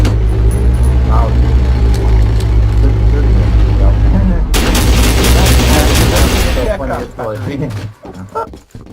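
Battlefield 1942 gunfire crackles in rapid bursts over rumbling vehicle engine noise, loud and close, with a dense stretch of repeated shots in the middle; a voice talks over the game sounds.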